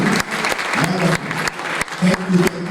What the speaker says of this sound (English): I would like to give yourself a round of applause for doing a great job this afternoon